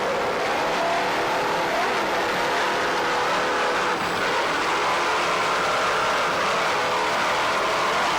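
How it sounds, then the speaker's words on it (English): A 34-foot racing powerboat at the 1994 Key West world championship race throttles its engines in a loud, steady roar that holds for several seconds with no voices over it. "Nice throttling there by Jason Seelig. 34-foot SUP."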